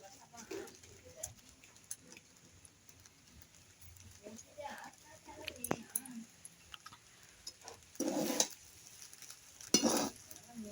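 Lemon rice being stirred in a pan with lemon juice, giving soft intermittent scrapes and clinks of a spoon against metal, with two louder bursts of scraping near the end under occasional speech.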